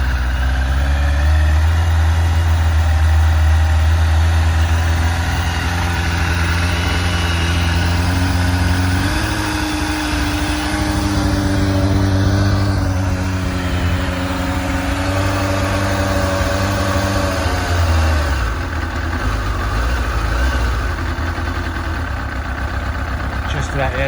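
A 1993 Yamaha YZF 750 R motorcycle engine idles steadily and close by, a low even drone with slight shifts in pitch, still cold and on choke.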